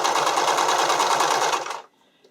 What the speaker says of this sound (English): sew on that inner edge of the elastic